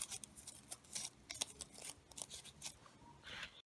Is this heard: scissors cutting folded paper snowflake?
yes